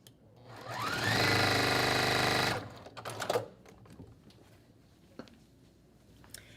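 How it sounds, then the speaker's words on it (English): A sewing machine stitches quilt block pieces together for a scarecrow and swirling leaf block. It whirs up to a steady, loud run for about two seconds, stops abruptly, and is followed by a few soft clicks and fabric handling. "So I'm just going to sew these together, press open with the iron, and then come back."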